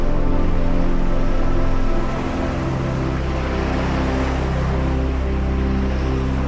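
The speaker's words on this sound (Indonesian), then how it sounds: "Hamparan pasirnya yang lembut berpadu dengan deburan ombak yang tenang" Continuous rumbling wash of surf at Teluk Penyu beach in Cilacap, waves rolling and breaking steadily with a low, even roar and no voices.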